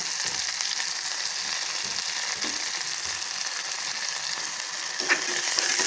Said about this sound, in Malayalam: ഇത് നല്ലപോലെ ഒന്ന് ഫ്രൈ ആയി വരട്ടെ കേട്ടോ